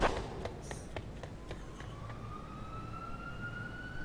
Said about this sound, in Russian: включить сирену